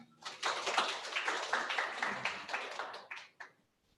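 Audience applause at a digital rights and inclusion forum after a speech; a smattering of hands swells quickly, holds for about three seconds, then fades out into near silence.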